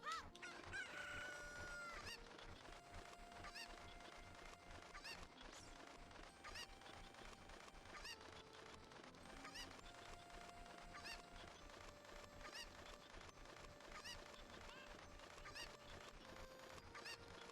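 Cuccos in Zelda: Ocarina of Time cluck and crow in repeated game sound effects over quiet background music, the bursts coming every second or two at low volume.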